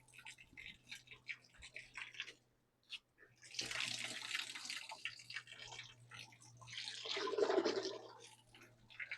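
Water splashes and runs from a tap in irregular bursts, louder toward the end, with a low electrical hum underneath.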